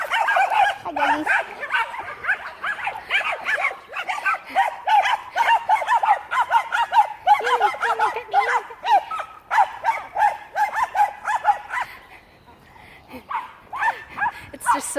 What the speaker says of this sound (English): It's just so not a threatening bark. You're like, I'm happy, human.